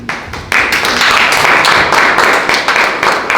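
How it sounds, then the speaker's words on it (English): An audience at an evening book launch event breaks into a loud, sustained round of applause, dense overlapping clapping filling the room steadily for several seconds. "Ladies and gentlemen, round of applause for Taiwo."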